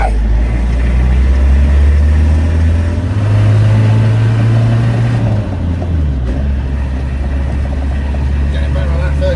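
A Peugeot 404 pickup with a small 1.8-litre four-cylinder diesel drives on the road, its loud, steady low engine drone rising briefly mid-run and then settling, with cabin noise and a voice at times.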